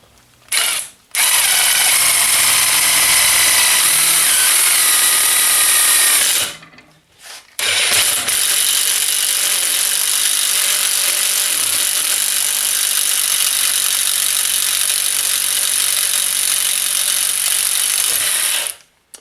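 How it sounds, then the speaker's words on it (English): A Milwaukee Shockwave thin wall hole saw on a power drill bores through 1/8 inch steel with a loud, harsh grinding whine, cutting in one burst, briefly stopping, then grinding on steadily to the end. "I'm going to drill through this now with the Shockwave thin wall hole saw"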